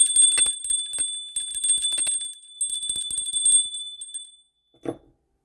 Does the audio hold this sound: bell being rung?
yes